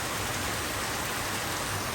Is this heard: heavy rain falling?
yes